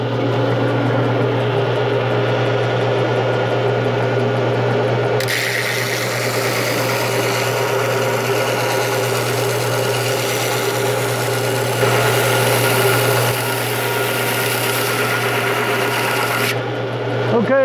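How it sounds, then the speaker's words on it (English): A glass bottle being ground through with a powered grinding tool, producing a loud continuous motor whine with a steady low hum and harsher abrasive grinding that intensifies partway through, no talking. "I'm going to grind this off"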